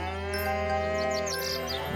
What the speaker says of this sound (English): I'm gonna pet the cow